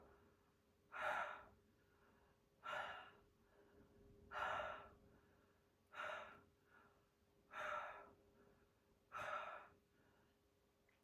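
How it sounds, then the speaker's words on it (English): Deep open-mouth breaths during a home yoga session, six slow airy exhalations spaced about every one and a half seconds, soft and close with quiet pauses between, no talking. "opening our mouth and breathing in and out with an open mouth"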